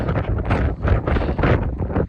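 Strong wind on a mountain summit beside a chapel buffets the microphone in heavy, roaring gusts that swell and fade repeatedly, loud and close with no voices.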